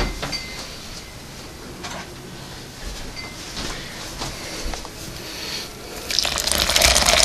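Water runs and splashes steadily as sand is rinsed a second time after a bleach soak for sterilization, with a gritty, clattering texture and a louder gush near the end, close by and with no talk.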